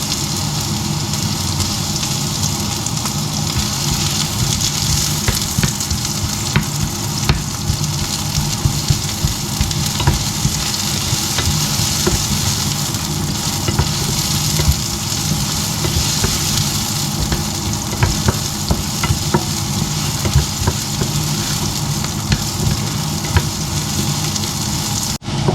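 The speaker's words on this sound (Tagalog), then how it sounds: "Igisa na natin yung ating sibuyas." Onions sautéing in a pan in a home kitchen: a steady, dense sizzle with crackling pops that runs on without a break.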